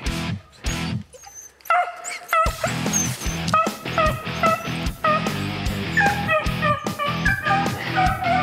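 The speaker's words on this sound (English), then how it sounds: "training my three dogs on snowshoe hares" Three beagles chasing snowshoe hares in northern New York give a steady run of excited barks, yips and baying outdoors. The sharp, repeated calls overlap at close to middle distance and sound louder and more frantic as the chase builds.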